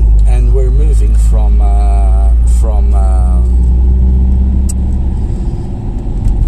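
A car drives a road in Madeira from Ribeira Brava toward the north coast; a steady low engine and road rumble runs throughout while a person talks over it.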